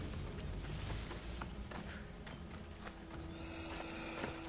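Horse hooves clip-clopping in the video game Assassin's Creed Origins, a rhythmic trot of close hoofbeats with a whinny, set against busy game ambience.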